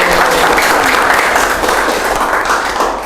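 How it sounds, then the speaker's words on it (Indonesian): Enthusiastic applause from a student audience at a school talk show, dense, loud clapping throughout with no voices. "Tepuk tangan dulu dong."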